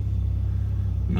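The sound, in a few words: car engine sputtering while running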